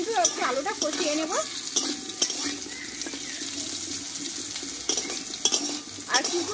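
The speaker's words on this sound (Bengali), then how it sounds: "দেখো আমি আরও কিছুক্ষণ কিন্তু আলুটা কষিয়ে নেব" Potatoes being stir-fried in oil in a pan for a yardlong bean dish, cooked without spices. A steady sizzle runs throughout, with repeated scraping and clinking strokes of a spatula at a close, moderate level.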